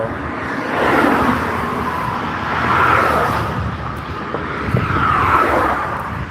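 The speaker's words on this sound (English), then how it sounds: "There's a lot of cars out here, though." Cars drive along a busy Brooklyn street, with steady road noise that swells and fades as vehicles pass by one after another. No one speaks.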